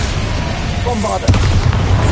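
A single heavy boom from the Bombarda explosion spell in the video game Hogwarts Legacy bursts out partway through, over a dense, noisy game background that stays loud throughout.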